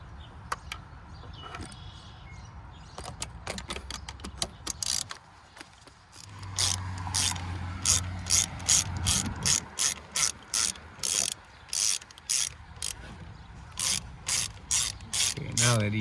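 A ratchet wrench loosens the EGR valve bolts on a 2001 Cadillac DeVille, working up close in quick bursts of clicking. Some strokes are slow and some come in rapid runs, with a few faint clunks of metal between them.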